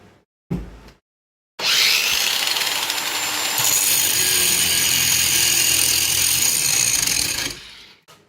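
A grinder runs while a knife is being made, starting after a brief bump and a short burst, then a loud sustained whine that steadies, lifts in pitch partway and cuts off near the end; no voices.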